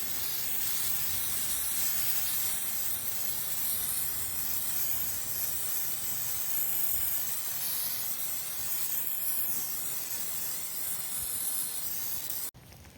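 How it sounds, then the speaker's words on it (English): Foraged hydrangeas being sprayed for winter garden containers, a loud continuous aerosol hiss held steadily for several seconds, then cut off sharply, up close and alone. "Here are the hydrangeas that we just sprayed."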